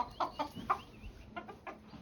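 Chickens cluck in short, separate bursts, fairly quiet and close, with a few brief pauses between calls, in a Konkan village yard where a peacock lives among the chickens.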